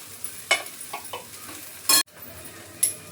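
A spoon stirs grated potato and chopped coriander in a pan for paratha stuffing, with a soft sizzle under a few scraping strokes and a sharper clatter near the end, without any talk.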